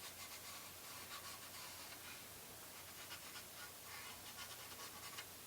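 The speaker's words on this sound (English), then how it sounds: "So I'm going to go ahead and put in some charcoal along this side." Charcoal pencil shading along one side of a drawing on paper in an art journal, a steady soft scratchy rubbing that continues close and quiet throughout with no talk.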